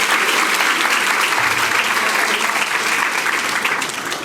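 A church congregation at a Sunday Mass bursts into loud, sustained applause for Father's Day, a dense close clapping that carries on evenly and eases slightly at the end.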